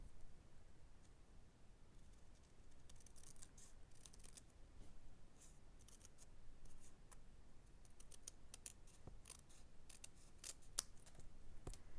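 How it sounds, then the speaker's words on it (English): Scissors snip freehand around a card window frame in quick, faint, irregular clicks over a quiet background, close but soft, with no voices. "So I'm just going to freehand cut around it."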